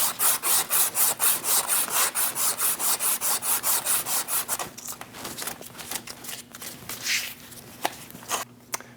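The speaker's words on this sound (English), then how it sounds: "Using a piece of high grit sandpaper, we are going to clean the shaft for our new neutral safety switch" High grit sandpaper rubs corrosion off a steel shaft for a neutral safety switch on a 2001-2006 Chevrolet Silverado 2500 HD, a rapid, regular back-and-forth rasping close up that turns slower and more uneven.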